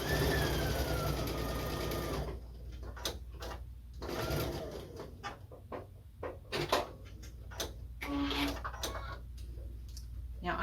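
A sewing machine stitches quilt block pieces fed through without pins, its motor whirring steadily at first, then in short bursts with clicks and pauses, close by, while a person talks throughout.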